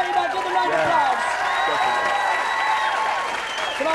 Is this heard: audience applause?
yes